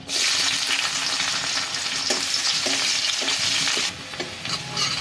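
Chopped onion, whole cumin and a chili frying in hot oil, producing a loud, continuous close sizzle with faint stirring scrapes throughout, easing slightly near the end.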